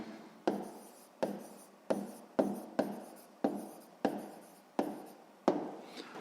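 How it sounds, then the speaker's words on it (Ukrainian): Pen on paper writing an answer by hand to a sixth-grade math exercise: about nine quick, evenly spaced scratchy strokes, each a sharp onset fading out, close and clear with no talking. "Ну що ж, записуємо відповідь."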